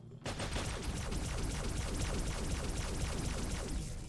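An energy weapon in a Minecraft Fallout roleplay game on rapid fire: a dense, continuous stream of fast, loud blaster shots that starts abruptly and keeps going without a break.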